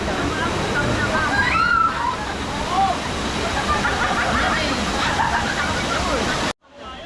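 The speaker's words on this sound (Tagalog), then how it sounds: "Waterfalls." Rushing water roars steadily like a waterfall, with a bright splashy texture and voices talking faintly underneath.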